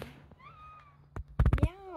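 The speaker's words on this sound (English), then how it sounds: "A cat is hiding behind these leaves." A cat hiding behind leaves in a Jamaican village gives a single faint, drawn-out meow, followed by a person speaking up close.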